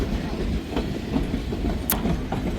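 A White Pass & Yukon Route train in Skagway, Alaska rumbles along the tracks with a steady low roar and faint clicking of wheels, with a brief sharp squeal near the end.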